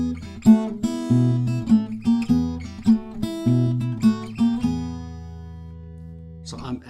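Slide guitar blues solo in a Kansas City Blues style, with gliding, sustained melodic phrases over a steady low bass line and picked accents, played alone at moderate loudness before ringing out and fading near the end.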